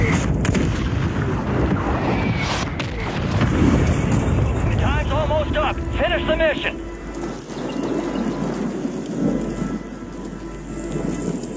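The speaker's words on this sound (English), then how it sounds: "Mortar strike inbound." Heavy rumbling blasts and crackling impacts of a mortar strike in a PUBG-style battle royale game roll on continuously, dense and loud, with a brief voice and a few whistling tones partway through.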